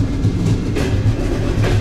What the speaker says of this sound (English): This is unchanged in Soviet times, this train.